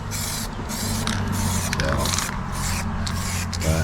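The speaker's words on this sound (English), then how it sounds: "let me get some spray on this guy" Bursts of hissing spray from a spray gun applying rubberized lacquer to an RC car body, repeated in short blasts over a steady low mechanical hum.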